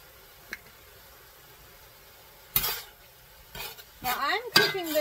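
Ground beef with oregano being stirred in a pan: a faint tap, then a few scraping stirs of a utensil against the pan over a soft sizzle, growing busier toward the end.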